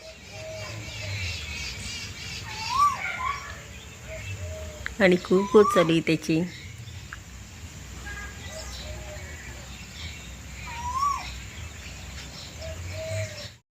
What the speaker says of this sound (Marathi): कसं मस्त तारेवर बसलंय कोकिळ